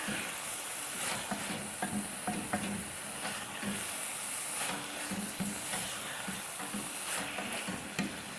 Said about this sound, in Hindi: थोड़ा सा इसे मिक्स कर लेंगे और भून भी लेंगे थोड़ा सा।